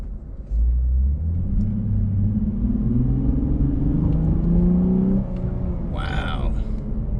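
A 2021 Lexus IS350 accelerates in sport mode, its engine rumble rising steadily in pitch through a long pull, heard from inside the cabin with a brief voice near the end.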